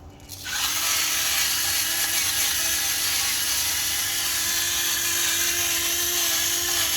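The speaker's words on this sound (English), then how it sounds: "You guys all seen my pepper grinder before." A pepper grinder grinds pepper in a continuous close, buzzing mechanical whir that starts abruptly and holds steady for several seconds, with no talking.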